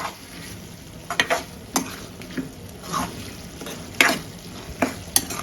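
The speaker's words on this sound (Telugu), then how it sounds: "సో ఇప్పుడైతే బాగా వేగుతుంది కీమా" Minced mutton keema roasting in ghee in a pan, a steady sizzle under sharp scraping stirs of a spatula at irregular intervals, close and loud without talk.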